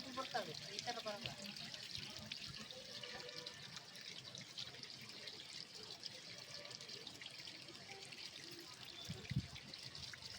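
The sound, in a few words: water running from a supply tap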